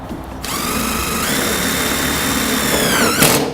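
A power drill drives screws into a stainless steel gas patio heater reflector, a loud, close whine that rises in pitch as the screw seats, then stops abruptly.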